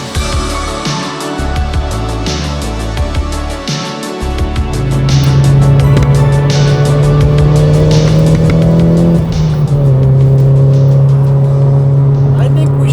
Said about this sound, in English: appreciate how great of a driving car the S15 is